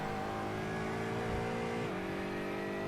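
A GT4 race car engine in a sim racing game, running at the Nurburgring, holds a loud, continuous drone, then drops pitch briefly near the end as it shifts and climbs again.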